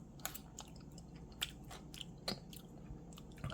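Close, wet chewing and crunching of a spicy tuna sandwich mixture being tasted, with a few distinct louder bites over soft mouth noises and no talking.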